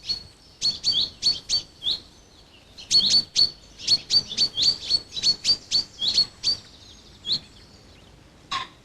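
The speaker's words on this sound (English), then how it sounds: "the surviving young owls compete among themselves and with the adults for space to hunt. The air is filled with calls." Young little owls calling at dusk in November, a series of sharp, high chirping calls repeated in quick rhythmic bursts, loud and close, with a short pause midway and a few scattered calls toward the end.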